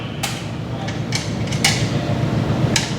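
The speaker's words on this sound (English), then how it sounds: "As you're moving the screen, the rocks are bouncing around." Coarse aggregate rocks bouncing inside a box sieve as the screen is shaken, several sharp clacks and rattles scattered over a steady low mechanical drone, close and fairly loud.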